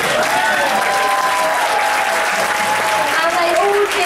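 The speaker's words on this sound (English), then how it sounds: "applause, please." Large audience breaks into loud, sustained applause, a steady wash of clapping mixed with some voices and cheering that holds evenly throughout.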